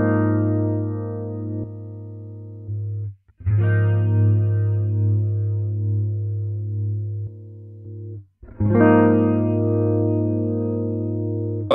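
Electric guitar played through the rotary speaker effect of a Line 6 Helix processor, with the speaker drive turned down for a darker tone. Two long sustained chords swirl and pulse with an amplitude wobble, separated by a brief gap, with no talking.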